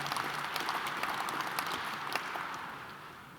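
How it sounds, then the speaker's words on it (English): Audience applause at the 2015 Reagan National Defense Forum, a full, steady wash of clapping from a large room that fades slightly toward the end, with no talking over it. "let any deserved applause be applauded"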